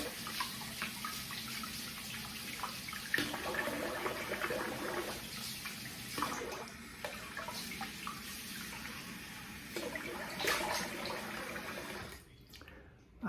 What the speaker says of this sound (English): so let's rinse the face